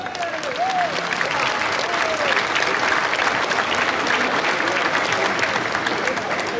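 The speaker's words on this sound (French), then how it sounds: "Applaudissez-les." A church congregation applauds couples married fifty years, a broad, even wash of many hands clapping, loud and unbroken, with a voice briefly heard over it at the start.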